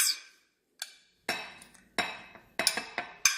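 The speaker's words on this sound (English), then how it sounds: "we're going to go ahead and mix in the cheese with the chopped onions" Cheese and chopped onions being mixed in a bowl for shrimp enchiladas, heard as a series of sharp clinks and scrapes of a utensil against the bowl, in short bursts with brief pauses.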